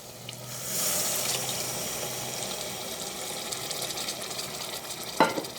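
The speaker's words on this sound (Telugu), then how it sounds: "అంతా కలిసేలా ఒకసారి కలుపుకుందాం" Tamarind pulp is poured into a sizzling pan of spiced taro root curry, a wet hiss and splash near the start, then steady frying with soft stirring and a sharp utensil knock at the end, no speech.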